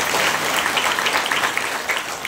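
Audience at a Marathi kirtan clapping together, a dense, steady wash of many hands held for a couple of seconds, loud and close with no clear gaps.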